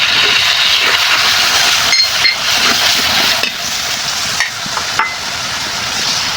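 Onion paste frying in oil with cinnamon sticks and cardamom pods: loud, dense hissing sizzle close by, with a few brief stirring knocks and a slight drop in level midway.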